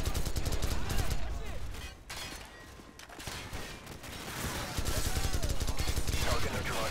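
Dense automatic gunfire and bursts of shots ring out during a Call of Duty 4: Modern Warfare combat mission at a Russian nuclear site, loud and nearly continuous with a brief lull, and voices call out over it.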